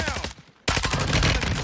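Assault rifle gunfire in a video game: a loud burst of rapid shots that breaks off briefly, then resumes as dense, continuous firing, with game sounds mixed in.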